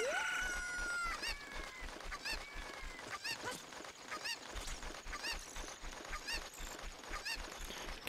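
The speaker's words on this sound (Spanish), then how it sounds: "otra vez a pillar la gallina" A chicken in the video game Zelda Ocarina of Time 3D crows at the start, then clucks and squawks repeatedly in a rhythmic series of sharp calls over a pulsing game soundtrack.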